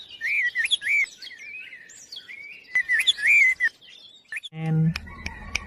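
Several birds chirp and warble close by in quick, bright phrases, overlapping one another, with a brief low voice-like sound near the end.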